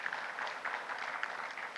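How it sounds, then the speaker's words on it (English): An audience at an industry conference session on tyre recycling gives a short round of polite applause, quiet and somewhat distant, with even clapping across the brief moment. "I think we should give him a big round of applause."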